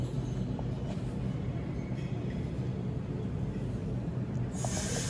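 A Sydney H-set passenger train, H16 coupled behind H49, rolls through a station platform, a steady loud rumble of wheels and carriages lasting throughout with a brief hiss near the end.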